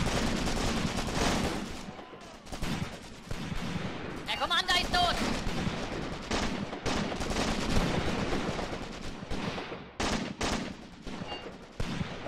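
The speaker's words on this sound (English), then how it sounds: "Our artillery barrage is quite effective, actually" In the Graviteam Tactics war game, an artillery barrage and gunfire in a forest battle near Shilovo give dense, loud overlapping booms and crackling shots that continue almost without pause.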